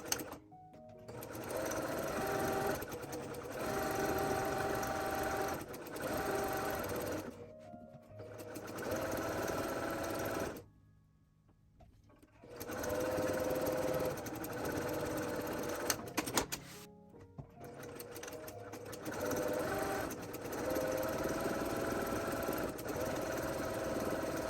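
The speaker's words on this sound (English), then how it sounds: "I sewed the 2 opposing sides on" Sewing machine stitching fabric squares for a patio project, a steady close mechanical whir running in long stretches, broken by a few brief stops.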